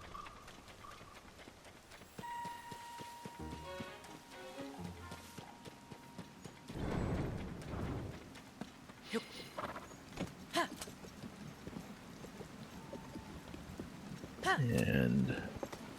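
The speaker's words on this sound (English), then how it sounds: "Here's my horse." Horse hooves clip-clop in Zelda: Tears of the Kingdom, a run of game footfalls that rises and fades over the clip, mixed with other in-game sounds and a voice talking throughout.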